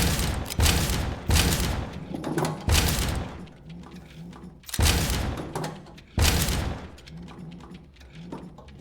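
About six loud, sharp gunshots ring out in The House of Da Vinci 3, fired in uneven bursts with short echoing tails between them.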